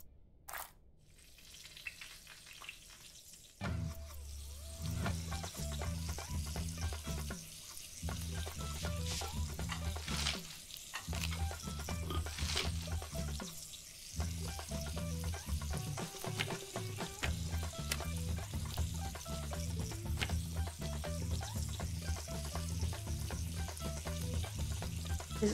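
Ghee and toppings sizzle in a pan in the cooking game Venba, a close, steady crackling fry with repeating rhythmic stirring pulses, starting after a quiet opening and briefly dipping a few times.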